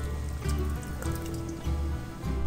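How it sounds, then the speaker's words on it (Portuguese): Water pouring into a pressure cooker over chicken thighs and drumsticks, a close, steady trickling splash in short uneven bursts, with no talking. "Agora eu vou colocar água até cobrir."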